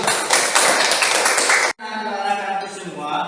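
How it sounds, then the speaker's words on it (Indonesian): Students clapping in a classroom for a group, a loud dense burst of hand claps that stops abruptly partway through, giving way to quieter room sound and faint voices. "beri tepuk tangan untuk kelompok 1"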